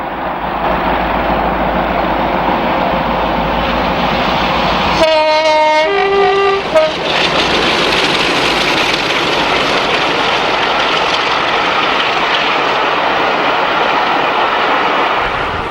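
Class 33 diesel locomotives 33208 and 116 haul a rail tour through Taplow, their engines roaring loudly and steadily throughout, with a rising horn blast of several tones partway through.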